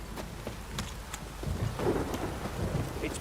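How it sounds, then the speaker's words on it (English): Steady heavy rain with rolling thunder in The Witcher 3 video game, a dense constant downpour under a low rumble that swells midway, with no voices. "If it don't stop raining, my arse will rot."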